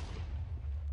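A deep, rumbling boom from a very large modded Minecraft explosion, heavy low-end roar that lingers briefly, fairly quiet overall.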